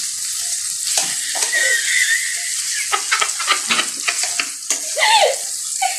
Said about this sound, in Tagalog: Ito ay magluluto ng corn beef